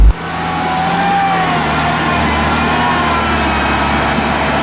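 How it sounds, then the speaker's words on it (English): A rugged Lada Niva off-road vehicle drives slowly while towing a heavy UAZ stuck on its belly. Its engine holds a loud, steady, close drone under strain, with no speech over it. "the rugged, reliable Niva is slowly, steadily, and carefully tugging a very heavily hanging UAZ on its belly"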